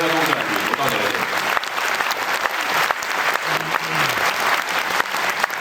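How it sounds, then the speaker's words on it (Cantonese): Theatre audience applauds at the final curtain call of a stage play, a dense, steady wash of clapping with a voice talking over it. "咁所以我好想大家借住你嘅掌聲，多謝台上嘅每一位"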